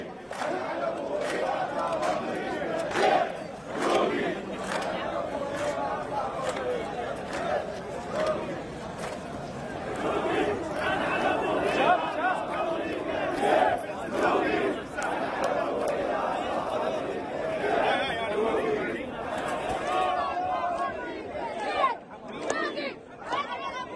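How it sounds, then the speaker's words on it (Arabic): Protesters in Basra, southern Iraq, chant slogans against Iran and America, a dense crowd of voices shouting in waves over continuous babble, recorded outdoors with some distance and sharp bursts throughout. "وردد المتظاهرون هتافات ضد إيران وأمريكا"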